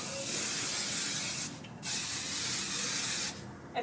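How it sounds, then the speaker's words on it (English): Hairspray is sprayed onto pampas grass leaves in two long, steady hissing bursts, close and fairly loud, with no talking. "now I'm just going to spray the leaves like so"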